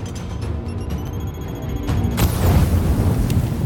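A grenade explosion in the video game The Division erupts midway as a loud, deep boom over ongoing rumbling battle noise, with a rolling low tail afterward.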